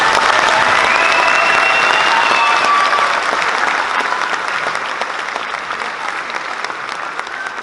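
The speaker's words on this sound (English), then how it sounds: "let's give the 5th grade another round of applause" An audience applauds 5th grade performers after a school Veterans Day concert, a dense crowd of clapping hands that starts loud and gradually thins and fades over several seconds.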